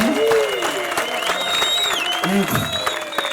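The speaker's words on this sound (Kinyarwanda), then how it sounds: "amashyi menshi ku mubyeyi" An audience applauds for a parent at a cow-giving ceremony, the clapping running steadily while a voice carries on talking loudly over it.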